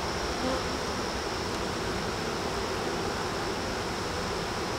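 A dense, steady drone of many honeybees swarms around an open hive frame, close and continuous with no talk over it.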